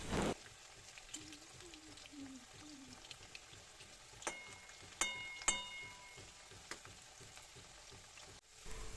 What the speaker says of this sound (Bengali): আলুগুলোকে এই তেলের মধ্যে ভালো করে ভেজে নিচ্ছি